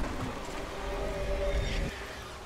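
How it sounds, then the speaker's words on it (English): A Houdini splicer from BioShock 2 Remastered makes a low, steady rumbling drone with a faint whooshing edge, holding for about two seconds before dropping away. "Yeah, that's the sound of a Houdini."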